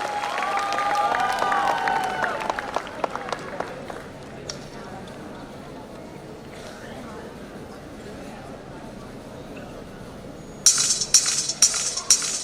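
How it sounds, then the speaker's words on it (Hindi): Applause with light clinking welcomes dancers at a school Independence Day celebration, strongest at first then fading to quieter crowd noise, with bright rattling sounds returning near the end. "दिल खोलकर तालियां बजाइए और हमारे डांसर्स का स्वागत कीजिए"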